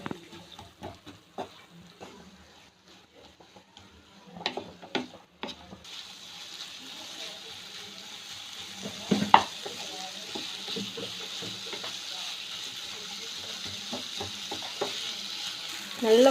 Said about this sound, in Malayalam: ഇതിലേക്ക് നമ്മൾ ചതച്ച് വെച്ച മസാല ഇട്ട് കൊടുക്കും. ഇത് നല്ലപോലെ സോട്ട് ചെയ്യാം.